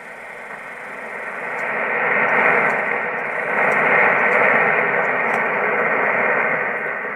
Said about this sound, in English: As you could hear, I found a spot where the static came way up.